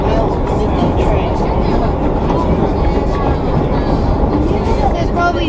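A preserved vintage NYC subway nostalgia train runs with a loud, steady rumble and roar, heard from on board and close, with faint clatter over the top.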